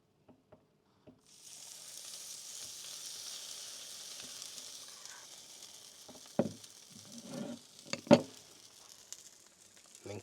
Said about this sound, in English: now we simply just open up our waffle iron and we're gonna spoon some of this batter